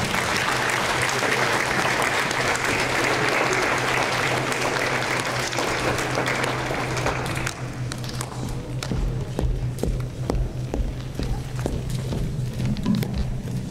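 Audience applause at a village anniversary celebration held in a school, steady dense clapping for about seven seconds that then thins into scattered, sparser claps with a low hum underneath.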